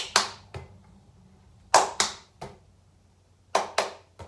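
Sharp, close hand claps in small groups of one and two during a children's clap-and-catch PE exercise, each crisp smack separated by brief pauses, with no talking.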